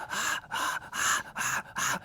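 A voice imitating rhythmic gasping from the Suspiria soundtrack, five breathy, strained pants in a steady pulse, close and fairly loud, with no other sound around them.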